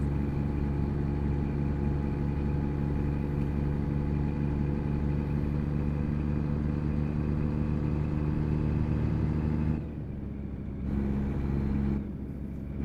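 A truck engine runs steadily while driving at about 40 mph, a loud continuous drone with strong low harmonics that drops briefly twice near the end, as if easing off the throttle.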